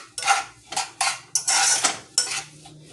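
A spoon stirs and mashes strawberries in a cooking pot. Five or so close, clattering scrapes come in separate bursts, with no talk.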